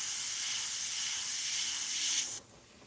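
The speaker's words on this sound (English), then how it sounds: "Just spray transparent on" Transparent paint hisses steadily from a spray can onto synthetic paper, close and continuous for about two seconds before the spray stops abruptly.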